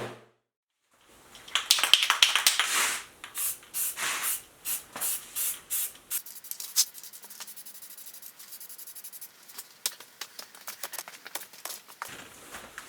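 Aerosol spray paint applied to the back side of a car steering wheel part, coming as rapid bursts of close hissing sprays in a quick rhythm, then sparser short blasts, no voices.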